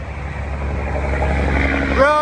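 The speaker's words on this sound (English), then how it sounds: "Road noise!" Steady low road rumble of passing traffic along a stretch of the Appalachian Trail, a continuous broad wash heard from the trail with a brief rising whine near the end, loud and unbroken throughout.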